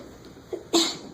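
A single sharp sneeze bursts out in a lecture hall during a math class, brief and fairly close, preceded by a faint small vocal sound and set against quiet room tone.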